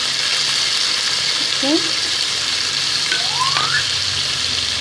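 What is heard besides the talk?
onions frying in pan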